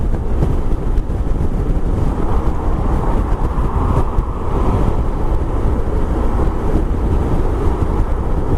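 Steady, loud, low wind rush and buffeting from riding a 2022 Honda X-ADV scooter at about 70 mph on the motorway, continuous roar with no pauses.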